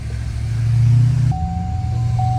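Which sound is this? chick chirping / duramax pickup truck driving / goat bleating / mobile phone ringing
duramax pickup truck driving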